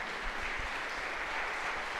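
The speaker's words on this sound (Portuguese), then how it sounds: "Dê uma salva de palmas para Jesus." Church congregation applauding during a worship service, a faint, distant wash of many hands clapping that stays steady and even over a couple of seconds.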